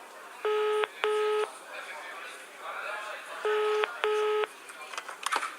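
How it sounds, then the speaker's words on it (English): A telephone rings in two pairs of short electronic trills, a steady pause between them, with some faint background movement and a voice stirring briefly. "It's ringing."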